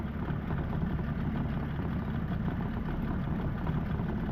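A boat engine running at a steady idle, a constant low rumbling drone heard close and unbroken, with no talk over it.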